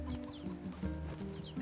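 Chickens cluck in the video game Nier Replicant, several soft, repeated clucks and short calls at a modest distance over a quiet ambient backdrop.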